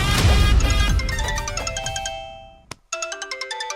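A phone ringtone plays in a Hindi TV drama scene, a bright repeating melodic chime pattern, first over dramatic background music, then alone after a brief pause, loud and close.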